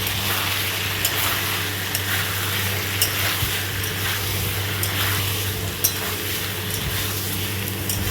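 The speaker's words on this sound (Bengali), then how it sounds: "এবারে আলুগুলো ঢেলে দেবো।" Potatoes fry in spiced masala in a pan, a steady close sizzle with periodic scrapes and taps of a spatula stirring them, under a low constant hum.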